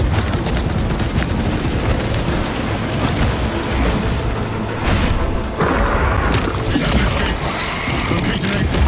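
Frag grenade blasts in Warhammer 40,000: Space Marine 2, heavy booming explosions layered with constant loud gunfire and crashing debris, filling the whole stretch without a pause.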